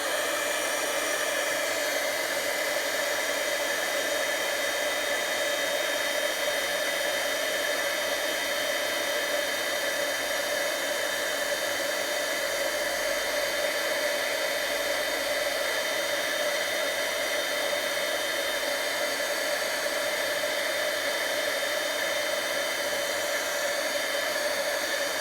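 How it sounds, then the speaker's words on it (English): Steady, loud blowing hiss of a heat gun used for embossing, running continuously for the whole stretch, with no breaks and no talking. "I'm just going to heat this, so a little bit of noise."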